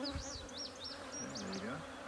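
Honey bees drone inside a hive box during a beekeeping class, a close, continuous buzzing with wavering tones as individual bees fly near.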